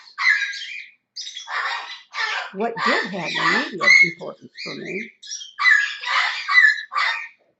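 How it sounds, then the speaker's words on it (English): Birds squawking outside, giving sharp chirps and squawks scattered through the clip beneath a person speaking indoors. "these birds are driving me crazy"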